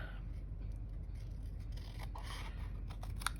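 Small scissors snipping at paper, a few soft crisp cuts near the end over a low background hum.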